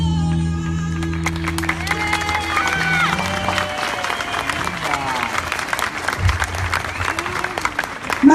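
A church congregation applauds during a worship service, continuous crowd clapping mixed with singing and music, steady and fairly loud throughout.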